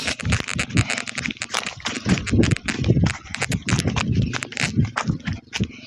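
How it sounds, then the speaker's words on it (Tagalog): Quick, crisp hoof clops patter in a steady walking rhythm, close and fairly loud, with some background noise around them. "May kabayo dito."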